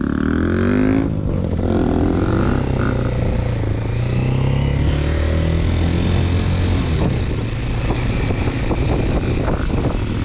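Mondial Xtreme motorcycle engine running steadily while being ridden, loud and close throughout with a slight rise in revs early on and wind buffeting over it.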